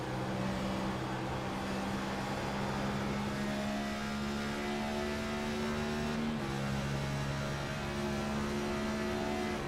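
Race car engine droning steadily at Darlington Raceway in a racing video game, with sustained tones that shift in pitch as the car changes gear, continuous and moderately loud with no talk.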